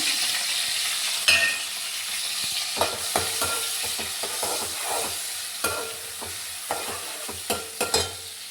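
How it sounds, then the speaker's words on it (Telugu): Dried shrimp sizzling and frying in a pan, with a steady low crackle broken by repeated scraping and stirring clicks, close and fairly quiet, no voices. "ఇప్పుడు ఇదే దాంట్లో ఎండు రొయ్యలు వేసుకొని వేపుకోవాలి"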